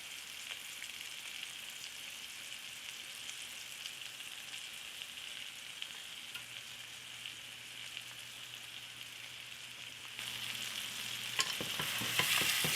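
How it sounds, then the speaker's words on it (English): Seasoned pork chops fry in a pan on a stovetop with a steady, close hiss of sizzling that holds evenly throughout and grows slightly louder and more crackly near the end. "we're going to cook this on this one side for 2 minutes before we do a flippy."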